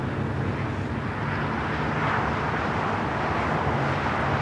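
A NATO Airbus A330 taxis at LAX, its engines producing a steady, broad low roar that holds constant and fairly loud from start to finish, with no voices.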